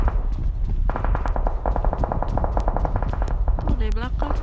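Gunfire in PUBG Mobile, a steady string of rapid shots from a shooter at a ruin, fairly close and loud, with a few voices chatting over the game sounds.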